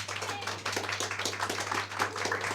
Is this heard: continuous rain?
no